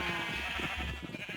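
Sheep bleating in the video game Minecraft, a continuous game-audio bleat with layered tones running throughout the short clip, fairly loud and alone.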